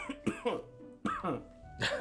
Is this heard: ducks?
no